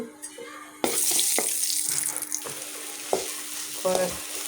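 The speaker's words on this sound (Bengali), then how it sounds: "হলুদের গুঁড়া দিয়ে আমি আলু ভর্তাটা দিয়ে দেখুন কীভাবে রান্না করি ভাজি করে" Mashed potato with turmeric hits a hot wok and starts frying with a sudden sizzle, which carries on steadily, broken by a few soft stirring knocks.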